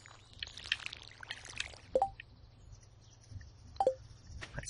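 A watering can pours over crops on a farm in Stardew Valley, quiet trickling splashes with two short bright chimes punctuating the soft game sounds.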